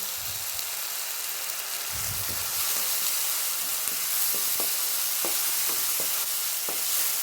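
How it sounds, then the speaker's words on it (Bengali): Fish curry masala stir-fried with a splash of water sizzles steadily in a pan, a bright constant hiss with scattered soft clicks of stirring, no voices. "যেন আমি আর একটু জল দিয়ে কষাবো।"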